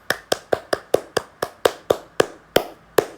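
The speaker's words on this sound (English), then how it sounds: "Round of applause to you." Slow, evenly spaced hand claps, about a dozen sharp slaps in a steady rhythm, close and clear with no voices, a lone mock round of applause closing out a grade 9 science review.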